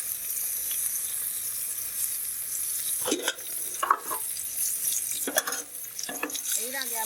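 Chicken sizzles in a pan with onion and garlic paste, a steady hiss broken by a few spoon scrapes and stirs in the second half, close and fairly loud, with no talking.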